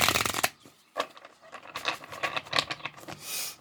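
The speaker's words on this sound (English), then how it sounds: "Just gonna give these a good couple shuffles." Tarot cards riffled and shuffled several times in quick bursts, close and crisp, with short pauses between each shuffle.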